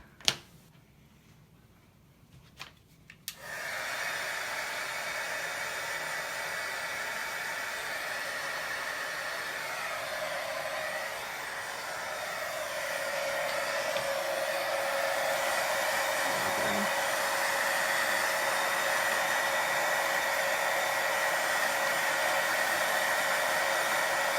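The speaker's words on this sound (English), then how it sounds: "So I'm going to go ahead and just get my heat gun real quick and dry that real quick." A heat gun blows hot air over layers of paint on a craft project, starting after a few quiet seconds with a click and then running as a steady, loud hiss and whine that grows slightly stronger partway through.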